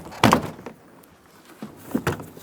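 2003-2007 Honda Accord front door trim panel lifted off the door, two short plastic pops and scrapes close by with a quiet pause between them.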